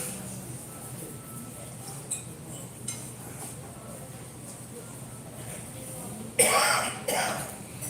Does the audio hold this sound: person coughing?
yes